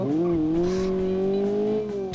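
Fiat car engine droning steadily under acceleration in the BeamNG driving game, a sustained near tonal hum that rises slightly and holds, with faint tire noise and no talk over it.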